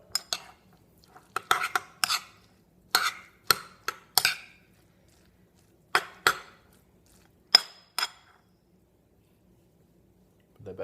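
Sugar and cinnamon being mixed in a bowl with a utensil: a series of quick, bright clinks and scrapes in short bursts with pauses between, fairly close and moderately loud, with no talking.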